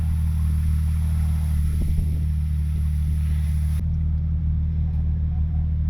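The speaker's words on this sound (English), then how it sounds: "it started pushing into it and spinning a good bit" A stuck off-road vehicle holds a deep, steady engine drone with a strong low rumble while its wheels spin, loud and close, with a faint scrape or two partway through.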